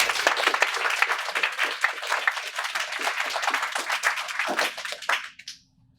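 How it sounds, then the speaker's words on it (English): A crowd applauds the judges at the closing ceremony of a mathematics symposium, with loud, dense clapping that holds steady for several seconds before tapering off abruptly. "So one more round of applause for our judges."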